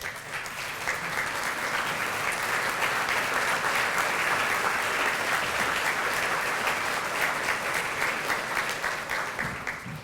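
A breakfast audience at a Junior Achievement event gives sustained, even applause for board members, a full roomful of clapping holding steady throughout with no speech.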